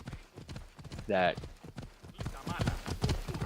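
Horse hooves clip-clopping in the Assassin's Creed Odyssey video game, a quick steady rhythm of hoofbeats running under someone talking throughout, with a brief louder tonal burst midway.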